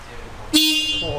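A Suzuki GSX-R1000 motorcycle gives one short, bright horn blast that breaks in sharply partway through and holds to the end, close and loud.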